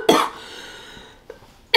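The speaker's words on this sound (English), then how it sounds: "I don't know why that stuff made me cough so bad" A single harsh, loud cough bursts out up close after inhaling sour chamoy powder, followed by a quieter breath and another brief throat sound at the end.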